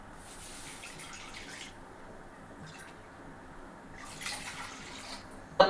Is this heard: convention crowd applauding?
no